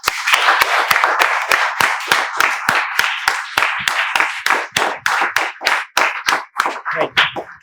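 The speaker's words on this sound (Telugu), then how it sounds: "మేమందరం మీకు చప్పట్లతో స్వాగతాన్ని తెలియజేస్తున్నాం" A spoken English class claps together in welcome, loud and close, in a fast even rhythm of sharp claps that grows looser and slows toward the end.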